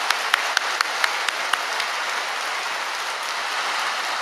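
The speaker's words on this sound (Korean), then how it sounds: "다시 한번 큰 박수로" A church congregation at a Korean memorial worship service applauds together, a dense steady patter of many hands with a few sharper claps near the start, moderately loud throughout.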